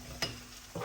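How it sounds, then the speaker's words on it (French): Crayfish, onions and chili stirred together in a pan, two quick scraping strokes against a faint low sizzle, quiet and close. "Bien mélanger."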